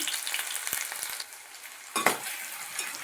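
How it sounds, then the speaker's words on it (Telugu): Onion and green chilli pieces fry in hot oil with a moderate crackling sizzle and a few sharp clinks of a spatula against the pan, quieter in the middle. "ఉల్లిపాయ పచ్చిమిరపకాయ వేసుకున్న తర్వాత వేయించుకోవాలండి"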